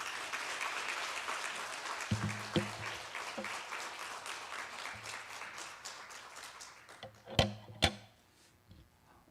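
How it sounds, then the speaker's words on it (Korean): Church congregation clapping during a Korean revival service, a long wash of applause that swells with a few sharp, louder claps near the end before dying away into quiet. "우리 감사의 마음으로 박수하도록"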